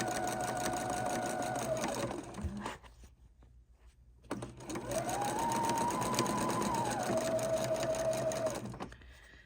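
Husqvarna Viking sewing machine running a 2.5 straight stitch under foot-pedal control while piecing quilt blocks, a close whirring hum in two bursts with a short pause between them, the motor pitch rising and falling with pedal speed.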